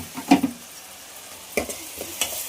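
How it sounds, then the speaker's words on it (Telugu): Ginger garlic paste fries in a pan under a low, soft sizzle, with a few brief stirring knocks and scrapes near the start and again toward the end. "అల్లం వెల్లుల్లి పేస్ట్ పచ్చి వాసన వరకు బాగా ఫ్రై చేసేస్తున్నాం."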